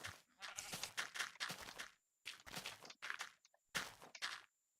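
A Minecraft sheep bleats several times in short, quiet bursts separated by brief pauses.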